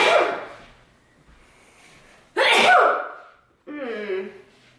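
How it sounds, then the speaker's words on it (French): A woman sneezes sharply and close by, followed by a second burst, with a person's voice speaking briefly after. "j'ai éternué"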